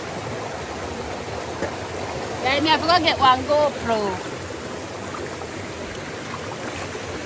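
River water flowing steadily through the Jamaican countryside, a broad continuous rush close by, with someone talking briefly over it partway through.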